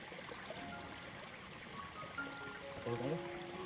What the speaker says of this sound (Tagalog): Tingnan natin yung batis. Kita ko sa inyo. Ang batis dito.